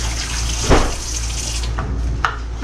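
Broth pours into a pot for yellow rice, a steady close liquid rush with one soft knock of the pot partway through and a faint clink near the end.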